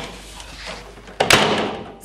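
A door is opened in a home, a sudden broadband burst with a thud about halfway through, following quieter room noise.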